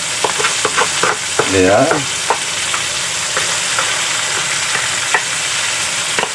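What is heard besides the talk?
crab with tausi being stirred while frying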